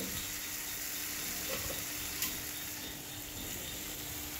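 Okra frying with salt in a pan, giving a steady close sizzle with faint stirring and scraping throughout and no voices.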